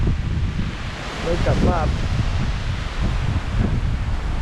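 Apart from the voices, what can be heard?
strong wind in the mountains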